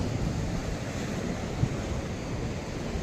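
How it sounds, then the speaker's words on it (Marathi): Sea waves crash steadily against rocks on the Bamangad coast of the Konkan, a constant roaring wash of surf mixed with wind noise buffeting the microphone. "इथं ते लाटा येतात ना, दगडावर आपटतात ते"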